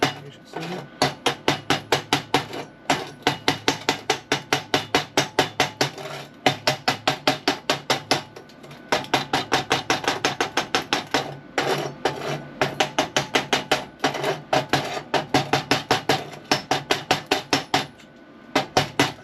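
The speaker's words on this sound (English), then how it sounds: "Take my chip hammer." A chip hammer knocks slag off a fresh weld on a steel compression post for a sailboat screw jack, sounding as rapid, sharp metallic taps in steady bursts with brief pauses, close and loud with no talk.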